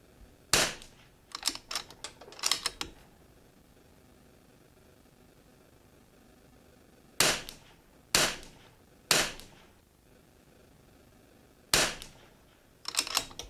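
Shots from a Bergara B14R rifle fired at a target: sharp, loud reports arriving singly and in quick clusters, separated by stretches of quiet background hiss.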